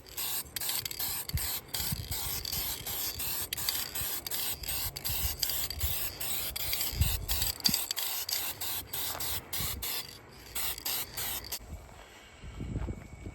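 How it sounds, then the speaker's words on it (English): An aerosol can sprays a light first coat of primer onto a 2003 Victory Vegas motorcycle fairing, giving a continuous close hiss broken by brief pauses and a few soft clicks. "this is the first light coat of primer."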